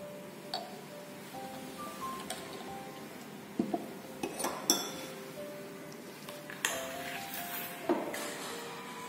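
A solution with three drops of phenolphthalein indicator is stirred in laboratory glassware, with a series of light glassy clinks and ticks scattered irregularly over a quiet room hum.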